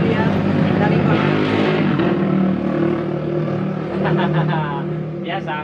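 Motorcycle engine passing by outdoors, a loud droning rev that fades over several seconds while someone talks over it near a bonsai workspace.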